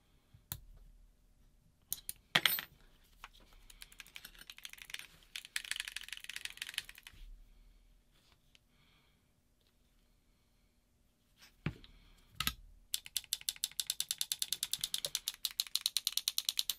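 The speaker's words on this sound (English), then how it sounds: "Tighten down these last two main bolts for the frame." Tool work on the frame bolts of a FloryPB System X NME paintball marker: scattered ratchety clicks and scraping, then a quiet pause, then a rapid even run of close ratchet clicks at the end.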